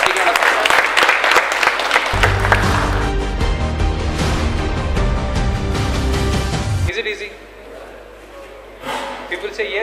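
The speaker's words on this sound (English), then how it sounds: "Please give a big round of applause." Audience clapping at a business club meetup as a speaker is welcomed on stage, an opening burst of applause quickly buried under loud stage music, with a brief lull near the end.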